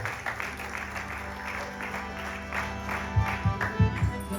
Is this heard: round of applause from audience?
yes